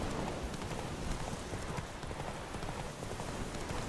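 Horse hooves gallop in The Witcher 3, a dense, steady run of muffled clip-clop beats at low volume with no talk over it.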